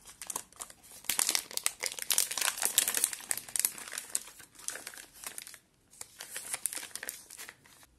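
Plastic wrapper of a large Milka hazelnut caramel chocolate bar crinkles and tears as it is opened, close and busy, with rapid rustling bursts, a brief pause near the end, then more crinkling.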